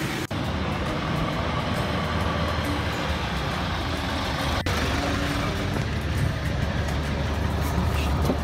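A jeepney rolls along a road in dense traffic, its engine a continuous, moderately distant rumble among other vehicles. Two sharp clicks break the noise.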